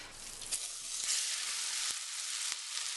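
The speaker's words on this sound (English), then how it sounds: "mix that around and put it into this hot pan which is now smoking." Sweetcorn fritter batter made with corn flour and plain flour hits a smoking-hot pan, producing a loud, bright, crackling sizzle that holds steady, with a few sharp spatters and taps throughout.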